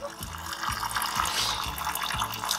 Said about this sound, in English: now we have a pleasant water fountain